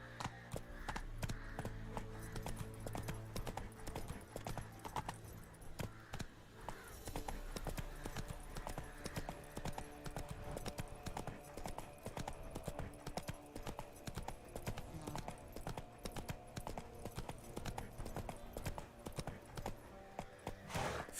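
Hooves of Roach, a horse in The Witcher 3, clip-clop steadily at a gallop throughout, layered under continuous game music and ambient sound, with a brief voice at moments.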